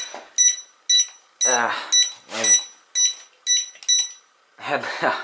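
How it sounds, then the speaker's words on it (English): A Floureon H101 toy drone gives a series of sharp, high electronic beeps in a rhythmic pattern, mixed with brief whirring motor bursts. "couldn't get it to stop beeping there."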